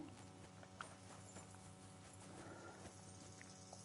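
Horse hooves in the video game Kingdom Come: Deliverance II trot in a steady clip-clop rhythm over a low ambient bed, fairly quiet and continuous.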